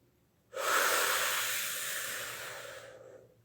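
Vigorous breathing exercise, air drawn in through the mouth to fill the lungs and pushed out hard through the nose: one long, loud, breathy rush that fades gradually, heard close and alone.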